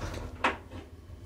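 A Stannah lift door at a WH Smith shop in Bournemouth closes with a single short knock, set against faint background hum and no voices.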